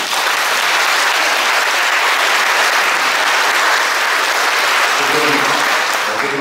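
Loud, sustained applause from a large audience at a church choir's 30th anniversary concert fills the whole stretch, with a voice briefly emerging near the end.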